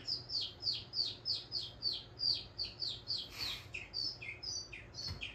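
A man imitates a bird call, repeating rhythmic high chirping whistles roughly twice a second over a steady low background hum, with a brief louder burst near the middle.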